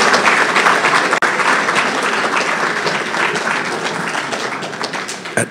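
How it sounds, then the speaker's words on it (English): A banquet crowd stands and gives a keynote speaker a long round of applause at a Labour Day event, loud continuous clapping that slowly tapers, with one sharp knock partway through. "Let's give our keynote speaker another standing round of applause."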